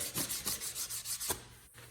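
Rhythmic sanding strokes rasp back and forth on wood, about five even passes, close and steady, ending in a brief pause.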